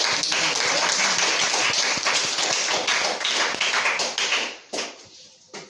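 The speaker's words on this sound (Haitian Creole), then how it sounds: "On applaudit le Seigneur matin" Morning church congregation applauding the Lord: loud, close, dense clapping that holds steady, then thins out and trails off into a few scattered claps.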